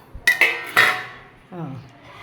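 A metal spoon stirs a homemade henna oil mixture in a pot, giving a few sharp clinks and scrapes close by, then a softer, lower scraping swirl.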